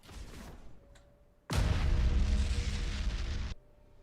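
A space station blows up in the game Battlefleet Gothic: Armada 2 with a sudden loud roaring blast that rumbles for about two seconds and then cuts off. Faint tones come just before it.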